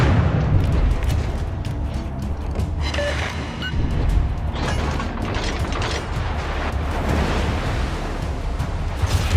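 Naval gun salvos boom from a warship in the World of Warships game, dense rumbling blasts layered over continuous battle noise, loud and steady with no talking.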